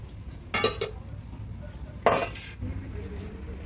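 A metal pot of vegetarian koyash curry seasoned with ghee and garam masala is lifted off the stove and served, with two sharp clanks and scraping under a low, steady kitchen hum.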